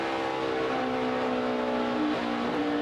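NASCAR Nationwide Series race car engine in practice at the Dollar General 300 (2012), a steady loud throttle drone with a strong low tone that swells slightly near the end, no talk.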